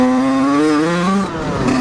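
An enduro motorcycle from 1986 revs with a strong, rising engine note that sags and falters partway up the throttle range before picking up again, close and loud, with no talking.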